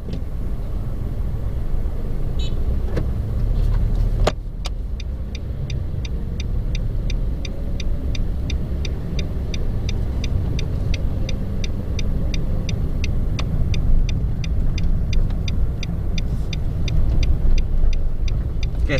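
An automatic car drives along with its engine running, a steady close road and engine rumble inside the cabin, with a brief thump early on and then a regular ticking indicator clicking repeatedly over the drone.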